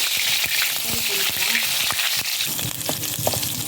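Curry leaves fry in hot oil in a pan for a chicken fry dish, giving a steady, close sizzle with occasional crackles and light stirring clinks throughout.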